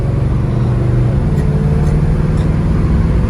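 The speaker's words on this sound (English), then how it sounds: "Run the Chevy late night, y'all." Steady low engine rumble and road drone from a 1979 Chevy Impala box Chevy driving at night, heard from inside the car, continuous and fairly loud without speech.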